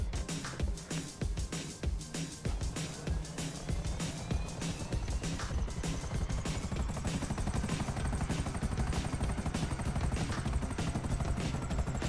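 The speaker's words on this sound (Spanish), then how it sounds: "Mirá que es este helicóptero, por Dios." A helicopter flies in GTA V Online, its steady rotor chop and engine drone filling the whole stretch, loud and close, with faint game sounds and car noise mixed in.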